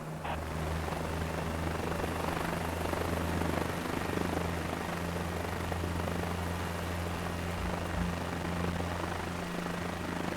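A helicopter hovers in a flight simulator game, its rotor and engine making a steady, unbroken drone with a constant low hum throughout and no talking.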